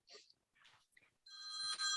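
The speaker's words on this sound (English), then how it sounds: "You're already getting calls." A phone rings during a Toledo park board Zoom meeting, a bright electronic trill sounding near the end after a few short bursts of voices.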